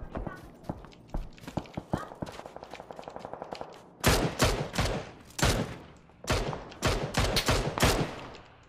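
Gunfire in PUBG: a quick string of close shots, then loud automatic bursts in several volleys, with players talking over it.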